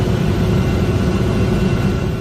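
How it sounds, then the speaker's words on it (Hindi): A helicopter carrying water and food to flood victims near Tirupati drones with a loud, dense, steady engine and rotor rumble throughout, heard alone without talk. "इन हेलीकॉप्टरों से उन तक पानी और खाना पहुंचाया जा रहा है।"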